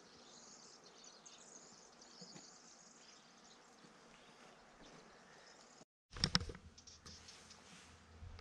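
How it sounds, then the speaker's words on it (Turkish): A steady insect buzz hums faintly outdoors for several seconds, then breaks off abruptly and is followed by loud rustling and clattering handling noise. "Arı sesleri yine keza."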